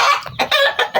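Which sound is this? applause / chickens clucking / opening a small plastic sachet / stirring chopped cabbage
chickens clucking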